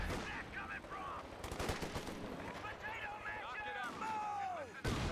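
.50 cal machine gun bursts rattle in Company of Heroes 2 amid other battlefield gunfire, sharp rapid volleys at middle distance while a voice talks over them.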